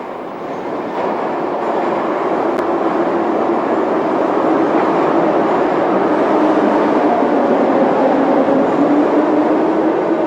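Moscow metro underground train running with a loud, steady rumble and rattle that holds evenly from start to finish, with no voices.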